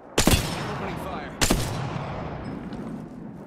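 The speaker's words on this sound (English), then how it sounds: "Opening fire." Gunfire in Apex Legends cracks out in two sharp, loud shots roughly a second apart, each trailing into a rumbling echo that fades away, with no voices over it.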